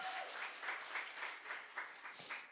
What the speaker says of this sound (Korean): 박수 한번 크게 주세요